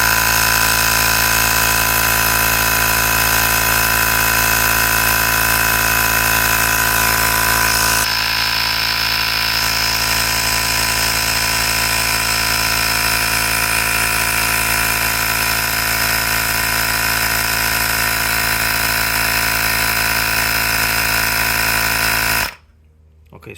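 A Ryobi battery-powered tire inflator pumps up a car tire, its motor droning steadily and loudly with a constant mechanical buzz for over twenty seconds before cutting off abruptly at the end.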